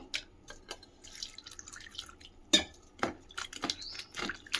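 Water drips and splashes up close, with a few light clinks of a dish, as tamarind is rinsed by hand in short, uneven bursts.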